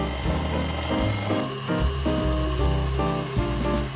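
Electric mixer with a whisk attachment whipping cream cheese with sugar for a whipped pumpkin cheesecake, a steady loud motor whir with shifting pitch running the whole time, close and without speech.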